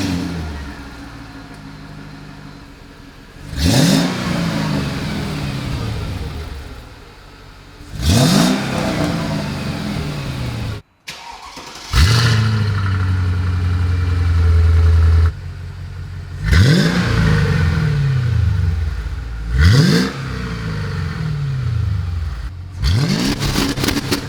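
A widebody Mercedes is cold started and revved through a $40 muffler exhaust. The engine idles close by, and a series of about six sharp, loud revs rises and falls over it, with no talking.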